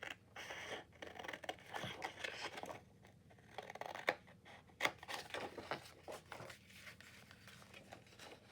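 Scissors cut through paper for a craft journal card with close, crisp snipping and rustling strokes in an irregular rhythm, and no one speaks.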